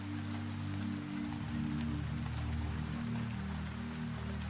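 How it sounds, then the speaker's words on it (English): Steady rain falls in a continuous soft hiss over a low, droning hum, even and unbroken throughout, with no voices. "only the sound of the rain"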